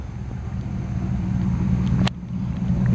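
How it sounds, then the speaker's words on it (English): A 1962 Chevrolet Impala with a 327 V8 idles with a steady, deep exhaust rumble close by, rising slightly in intensity over a few seconds. "let you listen to the exhaust"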